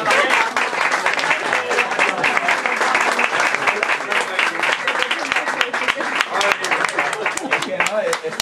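A large audience at a book presentation applauding steadily, dense rapid clapping filling the space at full volume without a break.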